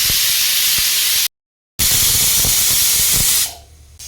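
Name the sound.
pressure cooker whistle releasing steam while cooking vegetable curry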